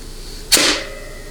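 A short, close blast of compressed air bursts from a cut nozzle seated in a 700R4 or 4L60E transmission during a low/reverse air check, then fades quickly within a fraction of a second.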